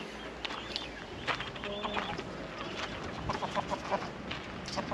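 Light Brahma chickens cluck and chatter in a coop, several birds overlapping in short irregular calls close by, over a low rustling background with a voice faint at times.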